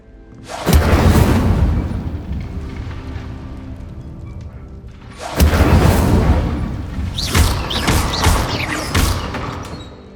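Incendio fire spell cast in the Hogwarts Legacy video game: two loud booming fiery bursts, the second followed by crackling, whooshing flame and shimmering magical effects that linger and fade.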